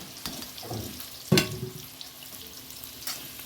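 Chili and tomato are dropped into a hot pan of oil with potatoes, giving a burst of sizzling and frying crackle with a sharp splash midway, then settling to a softer sizzle.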